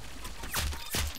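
Two sharp sniper rifle shots a short interval apart in the Roblox Arsenal shooter game, close and loud over a low game background, no talking.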